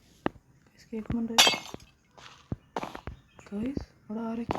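Glass blocks shattering in Minecraft horror mode, a sharp bright crash near the middle among scattered clinks, footsteps and tonal game sounds, with a person speaking faintly at times.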